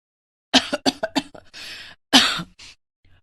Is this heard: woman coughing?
yes